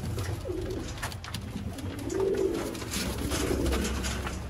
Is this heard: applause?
no